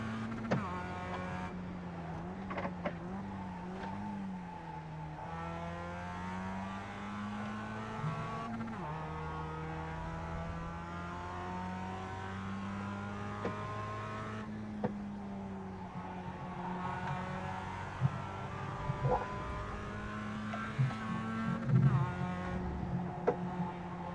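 Mazda MX-5 Cup race car lapping Laguna Seca in iRacing, its engine droning steadily with pitch rising and falling through gear changes and corners, brief tire squeals breaking through near the end.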